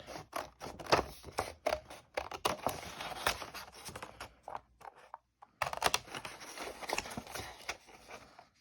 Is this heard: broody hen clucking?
no